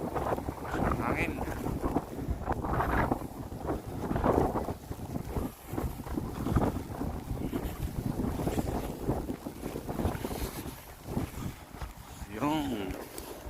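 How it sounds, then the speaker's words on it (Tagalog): Strong wind gusting through a Montreal snowstorm in Canada, a steady roaring rush with buffeting microphone noise throughout, loud and close, with a person speaking briefly over it. "Hangin."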